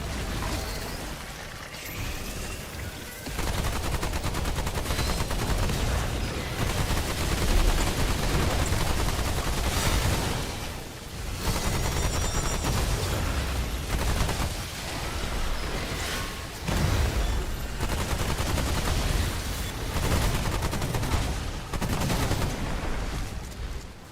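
The player's gun firing in Remnant 2, dense sustained bursts of loud gunfire and impacts that roar almost continuously, with a few short lulls between volleys.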